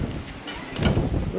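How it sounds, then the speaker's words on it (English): Strong evening wind buffets the microphone on a coastal hilltop, a steady low rumble with gusts swelling louder near the end. "Gets really windy in the evening here, and as we expected on the hill, it's a little bit worse."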